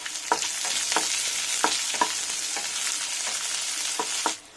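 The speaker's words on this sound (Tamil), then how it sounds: "வெங்காயம் நல்லா வதங்கிடுச்சு." Small onions (shallots) with mustard seeds frying in hot oil, a steady close sizzle broken by sharp seed pops and spatula scrapes roughly every half second, no voices over it.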